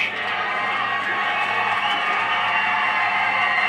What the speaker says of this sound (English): as you hear the Texas fans cheering him on